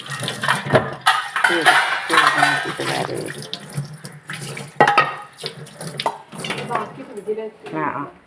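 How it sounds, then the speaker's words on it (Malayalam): A cooking pot being scrubbed under a running tap, with flowing water, scraping and clanking of metal in uneven bursts, close and fairly loud, with a voice talking intermittently. "ചട്ടി തേച്ച്"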